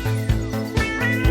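A cat meows repeatedly in a house, several short loud calls in a row close to the listener, with a steady background hum beneath them.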